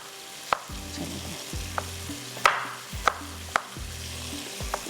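Tomatoes, green chillies and vegetables being stir-fried in a pan, with sharp spatula knocks against the metal at irregular intervals over a continuous soft sizzle, close by with no voices.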